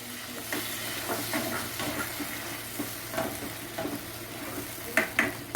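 Tomato sautéing in melted homemade butter over a medium flame for chicken biryani, a steady close sizzle broken by repeated scraping stirs of a spoon in the pan, with no talking.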